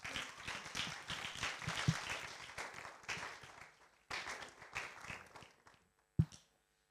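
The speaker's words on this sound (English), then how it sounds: "big round of applause for our panelists" Audience applause for a panel at a talk on data work, a dense wash of many hands clapping that swells and thins over several seconds, then stops abruptly with a final loud thump near the end.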